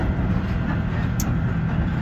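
An express train running in Japan, a steady, loud low rumble of wheels and carriage noise close by, with a brief high squeal partway through.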